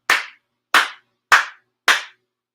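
Four sharp ritual hand claps at a Konko Kyo prayer service, evenly spaced about half a second apart, crisp and close with silence between.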